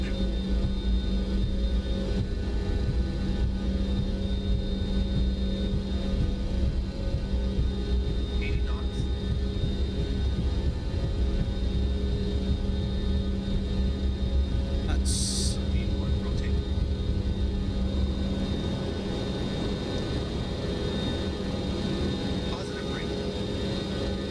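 The simulated Boeing 727 in Microsoft Flight Simulator 2020 runs its engines at takeoff power, a loud steady roar and whine that holds throughout, with brief talk over it.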